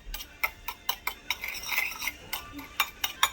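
A utensil scrapes and taps in quick, even strokes while sugar and cinnamon are stirred together on a plate, faint and close, with no voice.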